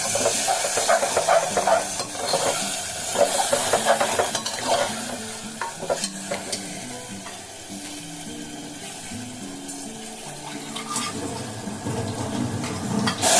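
Coffee chana (chickpeas) sizzles and hisses in a hot pan while a spoon stirs and scrapes through it, with steady frying crackle and occasional clinks of metal on the pan.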